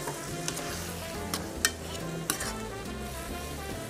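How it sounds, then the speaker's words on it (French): Chicken stuffing in a pan is deglazed with vermouth, producing a steady close sizzle with a few sharp bursts and faint scraping of stirring, with no voices. "Et là, on déglace avec notre petit alcool,"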